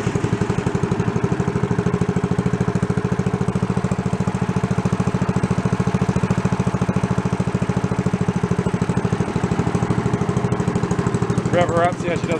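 An old log splitter engine, left abandoned for ten years, idles steadily at low speed with a fast, even chugging pulse and a rough mechanical rattle, loud and close throughout.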